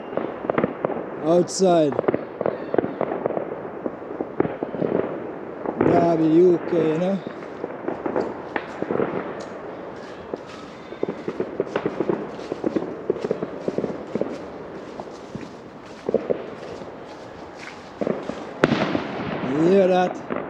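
Bonfire Night fireworks bang and crackle at a distance across a park in Derby, UK, in repeated bursts while someone talks over them and footsteps pass.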